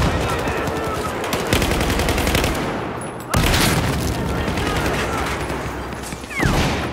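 Rapid automatic gunfire from a Battlefield 4 Rush match rattles almost without pause, with a loud burst jolting in midway and another near the end, while a player's voice sits faintly underneath.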